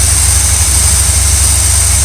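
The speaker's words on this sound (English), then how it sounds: "Idle's a little too low. It's up on the cam it's supposed to be on. And it's idling sweet." A motorhome engine idles steadily on its proper cam, a low continuous rumble with a faint high hiss, close and alone without voices.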